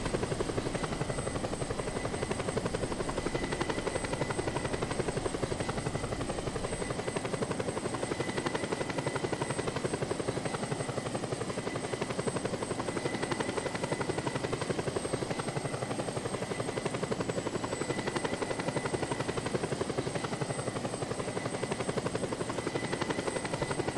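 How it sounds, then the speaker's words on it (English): Helicopter in the video game Just Cause 2 flying steadily, its loud continuous rotor and engine drone holding without pause throughout, with no voices. "Grapple onto the helicopter's hull, and hang on until you reach the destination."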